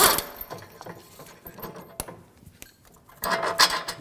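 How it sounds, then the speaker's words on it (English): A 21 mm socket wrench turns the rear shock nut under the suspension of a 2006-2009 Audi S4 4.2L V8, giving close, clicky ratcheting and metallic knocks that are irregular and grow louder near the end. "Use a 21mm wrench on the nut, 21mm socket"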